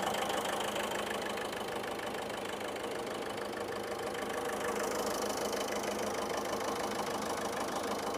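A 2016 Ford Ecosport Titanium diesel engine idles steadily nearby, a constant low rumble with a faint rhythmic knocking throughout.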